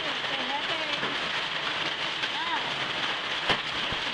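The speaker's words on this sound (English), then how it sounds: "We got a hailstorm." Hail falls in a storm in Baton Rouge, ice striking surfaces in a constant loud rattling wash with a sharper hit near the end, while people talk over it.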